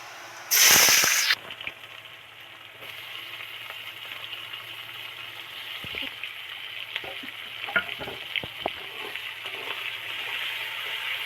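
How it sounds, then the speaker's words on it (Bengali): Chopped onions hit hot oil already holding bay leaf, dried red chilli and a pinch of salt while pointed gourd dopiyaza is made: a loud splattering sizzle bursts at first, then settles into steady close frying with scattered stirring scrapes and clinks. "এবার পেঁয়াজটা এর মধ্যে উঠিয়ে দেবো"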